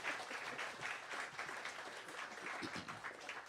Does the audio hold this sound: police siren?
no